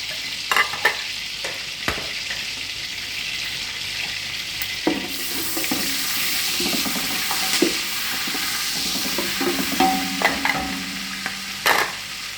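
Onions drop into hot oil in a pressure cooker for mutton rice, setting off a steady, bright sizzle with clattering stirs and occasional pops throughout.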